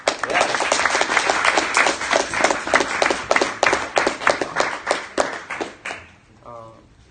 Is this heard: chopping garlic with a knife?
no